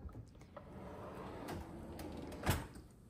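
A kitchen utensils drawer slides open in a quiet room, with soft rolling and rubbing followed by one sharper knock near the end.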